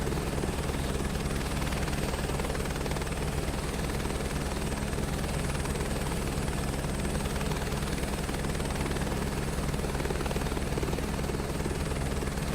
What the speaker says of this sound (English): With the helicopter, you can quickly turn the thing right back around.